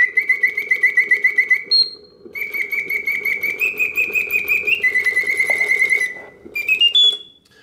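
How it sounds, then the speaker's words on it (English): A vintage Karl Griesbaum mechanical singing bird cage plays its automaton birdsong: rapid rhythmic trills and warbling whistled notes that rise and shift in pitch, with brief pauses, clear and close with a faint mechanical whir beneath. "The bird rotates her head left to right, and the beak and tail animate to the oscillating notes of the birdsong."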